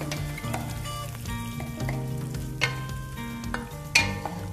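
Onions sauté in a pan, a soft steady sizzle with faint scraping stirs and a few sharper clinks.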